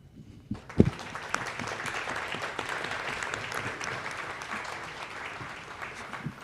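An audience at a design festival press conference breaks into applause after a sharp knock near the start, a dense steady clatter of clapping that carries on to the end at moderate level.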